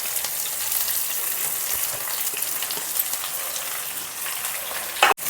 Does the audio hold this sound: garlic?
yes